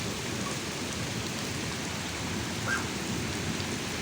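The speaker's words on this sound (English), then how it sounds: "It's a constant thundering noise now for more than a minute" A thunderstorm in Belgium: steady, loud rain pours on nearby surfaces, with a continuous low rumble of thunder beneath it for the whole stretch and no speech.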